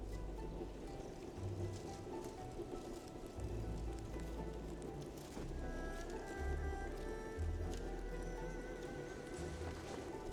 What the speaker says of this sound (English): Splattering rain.